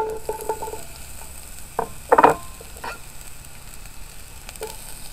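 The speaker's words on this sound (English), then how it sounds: "the oil's all heated up now, so we'll go ahead and throw in our onions and jalapenos" Onions and jalapenos sizzle in hot oil for refried beans, a soft steady crackle with a few light utensil clinks against the pan.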